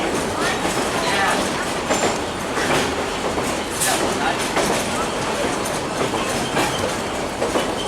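GM-built 1957 diesel locomotive 8218, formerly Canadian Pacific, rumbles along pulling a train, with steady clickety-clack of wheels on rail and a brief squeal, loud and nearby.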